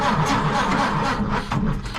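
The starter of a 1931 Ford Model A cranks the engine over in a steady rhythmic churn, close and loud, without catching.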